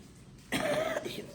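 A single harsh cough bursts out close by after a quiet moment, with a rough tail trailing off.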